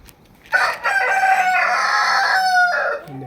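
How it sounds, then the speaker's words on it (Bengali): A rooster on an agro farm with a green garden in Oman gives a long, loud, close crow that holds steady for a couple of seconds, followed by a short trailing call and a faint cluck. "এখানেও আছে মুরগি"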